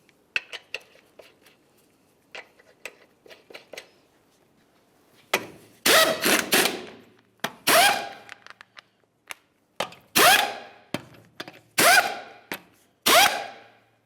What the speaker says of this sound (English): Start on all 5 of your 22mm lug nuts, bottom them out.